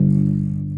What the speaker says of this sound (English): How to play a G is E3, right there, and it sounds like this.